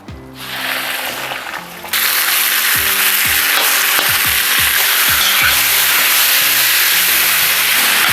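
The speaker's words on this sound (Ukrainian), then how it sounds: "Наступним етапом додаю невелику кількість соняшникової олії починаємо смажити м'ясо." Pork sizzling in sunflower oil in a kazan, a loud continuous hiss and crackle of frying that jumps louder partway through, with repeated metallic scraping clicks as the meat is stirred.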